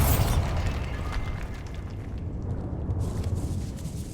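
Bombarda spell blast in Hogwarts Legacy inside a decaying catacomb, a loud close burst at the start followed by a rumbling, crumbling rubble roar that slowly fades over several seconds.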